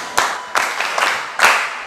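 Clapping for a young mother at a gathering, heard as four loud, close, sharp bursts spaced unevenly about half a second apart, each fading quickly, with no speech over them.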